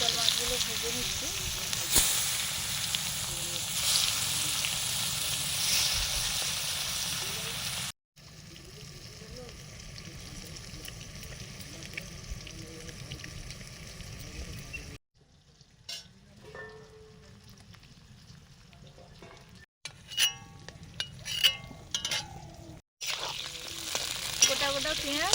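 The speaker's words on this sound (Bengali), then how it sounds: "চিতল মাছগুলো ভেজে নিচ্ছি।" Chitol fish pieces rubbed with salt, turmeric and chilli frying in oil, a dense crackling sizzle in several separate stretches with abrupt cuts, some stirring clicks and quieter passages between.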